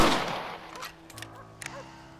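A few rifle shots in the Western video game Red Dead Redemption, an opening report fading out and then small sharp cracks spaced apart, with faint background ambience.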